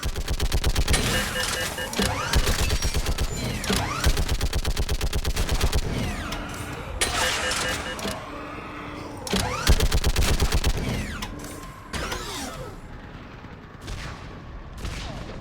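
Intense battle gunfire from the video game Mass Effect 3, with rapid automatic bursts and sustained volleys crackling nearly continuously, loud and near, with brief gaps and some shots echoing in the background.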